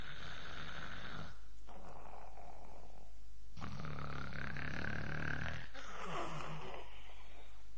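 A Chinese storyteller uses his voice to imitate loud snoring during a Water Margin tale, producing three long, rasping, rumbling snores with short breaths between them.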